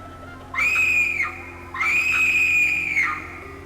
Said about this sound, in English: You hear a wind whistling sound that I've heard in Unreal Tournament.